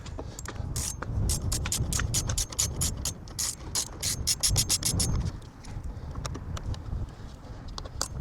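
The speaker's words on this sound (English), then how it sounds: "I'm just going to use my ratchet here" A hand ratchet with a 5 mm socket turns out fairing bolts on a 2025 Honda CRF300L Rally, close, crisp clicking in quick uneven runs with short pauses, alone and with no talking.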